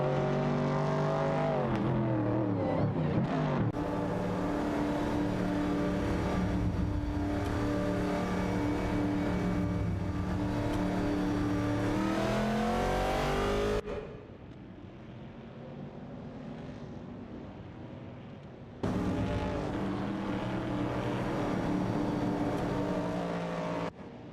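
Race cars including a Ford Falcon and a Pontiac Firebird roar through an AI-driven racing video game, engines holding loud sustained revving tones, dropping to a quieter lull midway before surging back.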